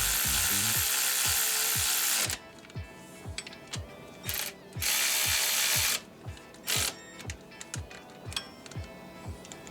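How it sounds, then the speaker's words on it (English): A hand ratchet tightens alternator bolts on a Cadillac Escalade, a rapid series of sharp clicks close by, first under a loud hiss, then in a steady repeating rhythm with brief rushing noise bursts between. "Then I go ahead and tighten the bolts up."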